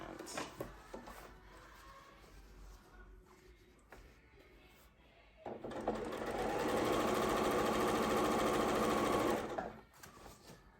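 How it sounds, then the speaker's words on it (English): A sewing machine runs in a steady, loud whir for several seconds as it stitches a fabric gift bag, preceded by quieter handling and fabric shuffling, with some speech nearby. "So my first sewing line is going to be right close to that edge."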